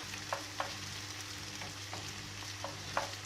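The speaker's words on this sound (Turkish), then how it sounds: "Soğanları ve biberleri iyice şöyle kavurdum öldürene kadar." Onions and peppers frying in melted butter in a pan, a steady soft sizzle with a few sharper crackles and stirring clicks scattered through it, no talking.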